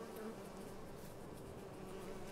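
Steady insect buzzing of bees swarming around beehives on a farm in Farming Simulator 22, continuous and moderately loud with no talk over it.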